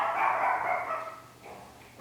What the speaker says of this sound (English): I'm going to excuse the dogs.